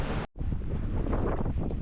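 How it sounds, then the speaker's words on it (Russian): Wind blows hard across the microphone on the south side of old Nesebar, a loud, rough buffeting roar broken by a brief dropout near the start. "начинается ветерок"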